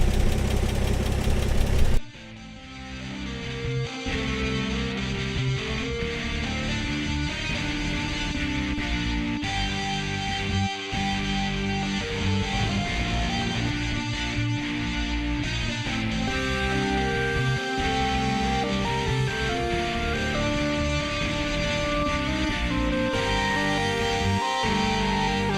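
An old car engine idles steadily at close range, its original hydraulic lifters tapping, with a continuous even drone and rhythmic ticking that runs unbroken after a brief start.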